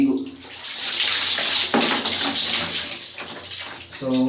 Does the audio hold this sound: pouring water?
yes